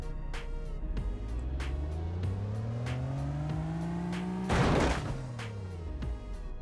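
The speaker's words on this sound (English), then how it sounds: "Let's see another crash, this time a full frontal impact." Car engine in the VBS2 military simulation game revving steadily with rising and falling pitch, broken by sharp impact bangs and a loud full frontal crash crunch near the end, no talk.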